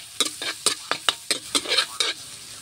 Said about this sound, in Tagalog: Talagyan natin yung mag-asawang bawang at sibuyas.